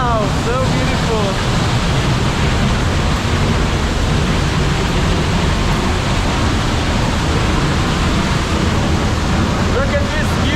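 Steady, loud roar of rushing water from the Giessbach waterfall near Brienz, Switzerland, filling the whole clip without a break. A few faint voices come through beneath the constant wash.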